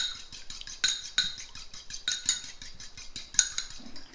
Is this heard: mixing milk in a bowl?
yes